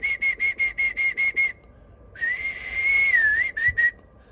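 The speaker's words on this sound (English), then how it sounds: "Oftentimes a whistle will give you a little bit more signal." A person whistles into a homemade electronic stethoscope: a string of short, evenly spaced whistle bursts, a pause, then a longer wavering whistle and two more short notes, clear and close.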